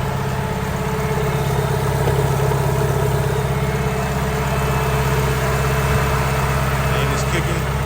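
A turbocharged Honda H22 engine in an Accord running rich, a steady loud drone close by, with no clear revving changes throughout.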